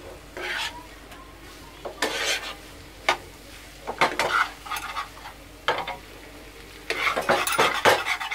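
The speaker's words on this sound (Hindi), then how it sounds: "इसे अच्छे से मिक्स करूंगी" Veg chow mein being stirred in a pan with soy sauce over high flame: repeated bursts of spatula scraping and clattering, loud and close, with a soft sizzle between strokes and no talking.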